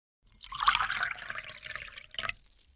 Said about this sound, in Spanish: El sonido de cuando vertimos un líquido en un vaso